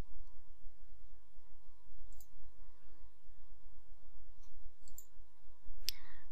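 Faint, sparse mouse clicks while working in job cost software: a few isolated soft taps over a quiet, low hum, with one sharper click near the end and no talking.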